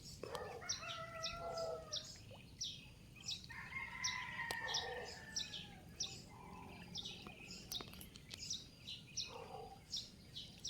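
A rooster held by a child crows faintly at a distance, with repeated short chirping calls from other birds throughout and no voices.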